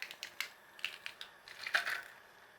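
Garlic crushed for a spicy garlic pasta, heard as a quick series of sharp, close cracks and crunches, building into a denser crunching burst toward the end.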